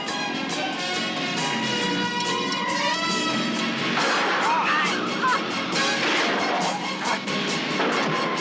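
Gunshots ring out in an action scene from the 1984 TV series Riptide, a string of sharp cracks and bangs mixed with music and voices.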